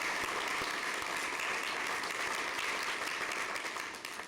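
Audience at a school governing board meeting gives a short burst of steady applause, fairly faint and distant, fading out at the close.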